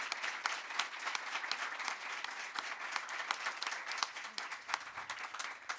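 An audience applauding at a book presentation, dense hand-clapping sustained evenly for several seconds at moderate volume, thinning slightly near the end.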